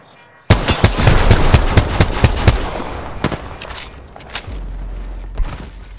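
Video game gunfire erupts in a loud rapid burst of shots, then thins into scattered single reports over a low rumble as the exchange continues.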